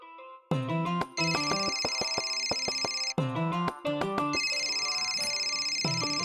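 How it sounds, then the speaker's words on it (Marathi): A mobile phone rings with a loud, close electronic ringtone: a bright melodic tune that repeats in bursts, with sustained high tones between the phrases and a brief gap midway. "माझ्या नवऱ्याचा फोन आहे."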